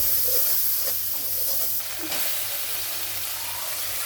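Pieces of bottle gourd hitting a hot pan, with steady loud sizzling and hissing steam that carries on throughout as the gourd cooks.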